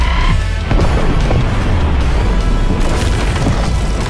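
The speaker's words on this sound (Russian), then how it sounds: "Давайте сбросим ядерную бомбу на мост!" A nuclear bomb dropped on a bridge in a video game goes off as a loud, booming rumble with crashing debris that rolls on for several seconds.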